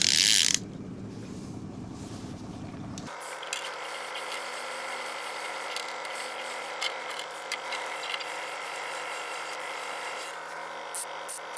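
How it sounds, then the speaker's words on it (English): A fishing reel with its drag loosened and the clicker on ticks in a steady, fine run of ratcheting clicks while trolling on Lake Winnipesaukee, close and quiet after a brief louder burst at the start. "I loosen my drags, leave the clicker on, so when they hit hard, they can take some line."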